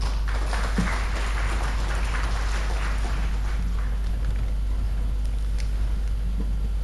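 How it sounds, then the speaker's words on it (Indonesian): Audience applause at an inauguration ceremony for the KADIN Demak chamber of commerce, with a steady, dense wash of clapping over a low hum. "Mohon tepuk tangannya sekalian"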